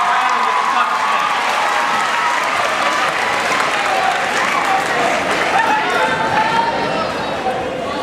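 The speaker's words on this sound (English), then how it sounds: "Give a round of applause for your principal and assistant principal, Mr. Ingram, Ms. Parker, Ms. Brown, and Mr." Sustained, dense applause from a middle school graduation audience in an auditorium, loud and continuous with scattered cheering and chatter mixed in, easing slightly toward the end.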